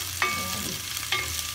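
Vegetables sautéing in a pan for a dish with guava, saluyot and string beans, a steady sizzle with two sharp stirring scrapes, close and alone with no voices.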